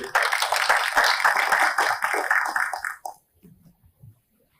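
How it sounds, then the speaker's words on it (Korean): Welcoming applause from a forum audience at a seminar as a professor is introduced, dense clapping that runs for about three seconds and then stops abruptly, leaving a few faint scattered claps. "큰 박수로 맞이해 주십시오."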